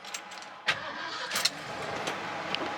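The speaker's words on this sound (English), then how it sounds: "This thing starts up, runs, drives, and shifts nice." A 1988 Ford F-250 4x4 SuperCab dually pickup with a manual five-speed has its engine turned over, with short bursts of cranking and catching over a steady mid-level running rumble, close by.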